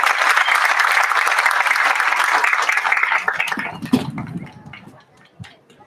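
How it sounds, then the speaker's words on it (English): A concert audience at a spring school band event gives loud, sustained applause for the new band director, which fades out over the last couple of seconds as a voice begins speaking. "And let's give him a round of applause."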